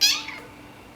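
A Sphynx cat gives a single short, loud, close meow that trails off quickly, heard alone without talking.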